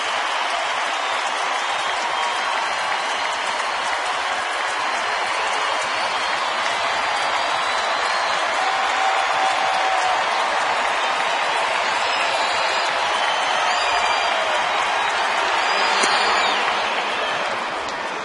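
A baseball stadium crowd of about 31,000 stands and applauds during a Pittsburgh at Houston game, giving a long, even roar of clapping and cheering that swells slightly toward the end. No talk cuts through the noise.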